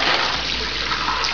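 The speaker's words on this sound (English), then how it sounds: "Put it in ice water. Dump it back in the colander." Cooked spaghetti and ice water pour out into a colander in a kitchen sink, a steady, loud rushing splash of water draining through for the whole moment, with no talk.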